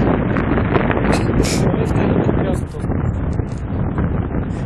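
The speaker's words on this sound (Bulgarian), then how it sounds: "и не чувам само свирането на вятър" Strong wind roars and buffets the microphone out on a boat, a loud, steady rushing broken by short bursts of higher whistling, with the gusts easing briefly near the end.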